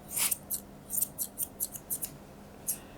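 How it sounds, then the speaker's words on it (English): Grooming scissors trim a poodle's coat around its rib cage, a series of crisp close snips coming in uneven clusters with short pauses between them, clear and loud. "keeping my scissors nice and flat and heading around his rib cage"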